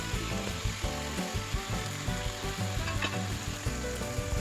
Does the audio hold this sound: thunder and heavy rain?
no